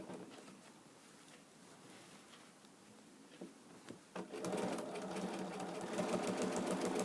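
A sewing machine stitches lining fabric, starting quietly with a few clicks and knocks, then running steadily at a buzzing, whirring pace from about halfway on, loud and close.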